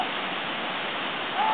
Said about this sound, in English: we're at Dry Run Creek.